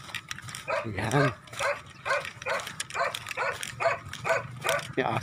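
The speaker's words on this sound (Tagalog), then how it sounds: "Yung aso pa." A dog barks repeatedly in short bursts, fairly close, with some background noise and a few higher whimpering yips mixed in.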